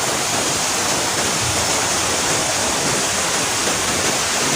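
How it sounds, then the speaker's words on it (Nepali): A river stream flows in a steady, dense, close rush of water that holds an even loudness throughout, with no voices. "बिचमा खोला छ, खोला पनि अहिले पुरा सङ्लो भएको रहेछ है"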